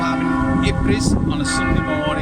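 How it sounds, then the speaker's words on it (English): Church bells ring steadily on a Sunday morning in Ypres, Belgium, a dense sustained peal filling the background while someone talks over it. "I don't know if you can hear me or not with these bells going in the background"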